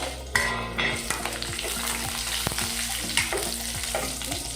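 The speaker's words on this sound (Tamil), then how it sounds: "பூண்டு நல்லா ஃப்ரை ஆகிடுச்சு. மிளகாவை போட்டுருவோம்." Garlic and chillies fry in a pan for garlic chutney, giving a loud continuous sizzle broken by repeated metal scraping and tapping as they are stirred. No voices.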